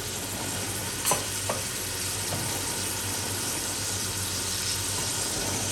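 Garlic fries in desi ghee with a dense, continuous sizzle that stays loud and even throughout, with two brief clicks early on.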